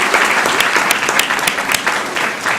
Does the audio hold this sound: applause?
yes